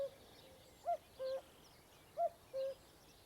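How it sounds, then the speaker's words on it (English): A cuckoo calls its two-note cuckoo song twice, each pair a short higher note and then a longer lower one. The calls are clear but somewhat distant over quiet background hiss. "when you hear a cuckoo calling, you know it's spring"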